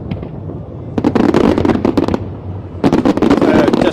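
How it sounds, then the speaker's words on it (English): A 2024 Lunar New Year fireworks show for the Year of the Dragon over Hong Kong sends loud, dense volleys of crackling bursts in two intense waves over a low, continuous rumble. "you are watching the Lunar fireworks display, the Year of the Dragon"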